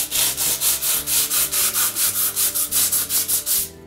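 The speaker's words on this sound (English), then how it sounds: "What we use is 40 grit sandpaper." Grout joints in a tiled wall rubbed with 40 grit sandpaper by hand, a loud, close, rhythmic scratching of about fifteen quick back-and-forth strokes at a steady pace, no voices.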